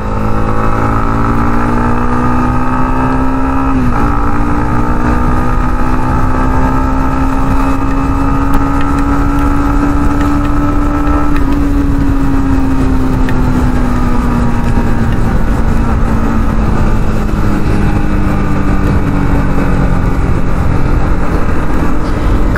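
Yamaha MT15 BS6 motorcycle accelerating hard along an empty road, its engine note climbing steadily in pitch with a brief gear change, then holding and easing off near the end; loud and continuous, with no talking.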